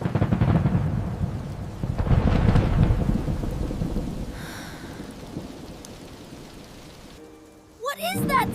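Night thunder rumbles loud and close over steady rain, then fades to a quieter wash of rainfall before a sudden sharp crack near the end.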